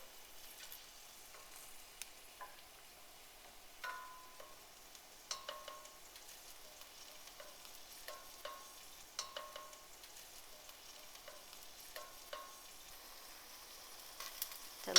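Garlic frying and browning in a pan for a Mediterranean green bean medley, a soft steady sizzle with scattered light clicks and pops of stirring, moderately close and without talk.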